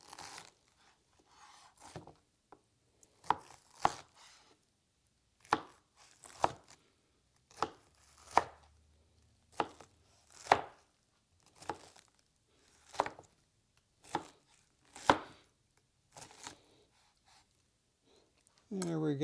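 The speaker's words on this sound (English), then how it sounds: "start cutting them into the chunks" A knife chops fresh pineapple into chunks on a cutting board, about a dozen sharp, crisp cuts in an uneven rhythm with short pauses between them, close and clear against quiet.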